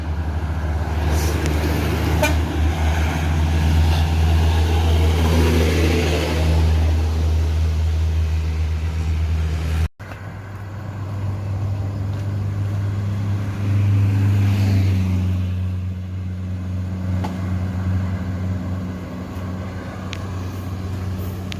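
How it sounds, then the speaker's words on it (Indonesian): A large bus engine rumbles steadily and pulls away, its low drone swelling, with traffic noise around and a brief break partway through. "Bus yang keempat berangkat"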